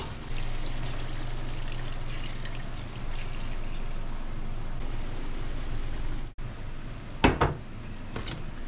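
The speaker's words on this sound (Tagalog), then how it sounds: "Lagyan na po natin ng tubig." Water pours into a pot of chicken curry in a steady, close rush, then cuts off, and a few clanks of the pot and utensils follow.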